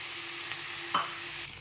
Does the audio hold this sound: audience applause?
no